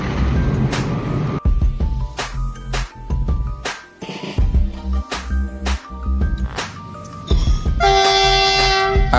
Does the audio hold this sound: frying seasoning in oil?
no